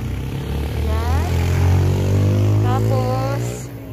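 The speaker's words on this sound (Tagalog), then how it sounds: "ang ingay ng motor dito" Loud motorcycle engine droning steadily throughout near a down zone in Singapore, with a rising rev partway through and a person talking over it.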